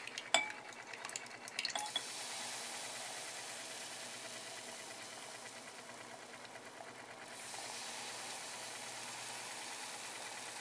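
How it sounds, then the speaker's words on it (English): A magnetic stir bar spinning in a lab flask while a vanadyl acetylacetonate complex is prepared, a faint steady whirring hum with a few clinks of glassware at the start. "The stir bar does not want to cooperate."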